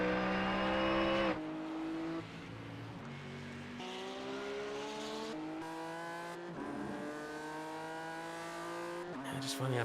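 Race car engines in the iRacing sim at the Nürburgring 24-hour race, revving loud and near through a string of downshifts and gear changes, pitch stepping down then climbing again, with a speaking voice over them.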